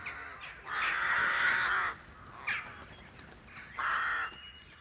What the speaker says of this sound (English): The crows in the cottage meadow at the moment, they're all nesting here.